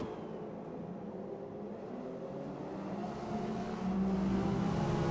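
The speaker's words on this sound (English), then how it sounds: "you can audibly hear how much Unku is sliding that car around" A race car in a 24-hour Daytona sim-racing event slides around a corner, its engine droning steadily and swelling louder toward the end, with a sustained scrubbing tone from the tires.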